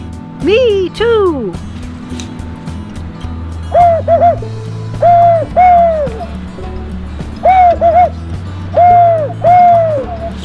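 A person imitates a great horned owl with deep, rhythmic hoots, delivered in two short bursts of several notes each, loud and close. A brief spoken exchange comes at the start, and a low hum runs underneath.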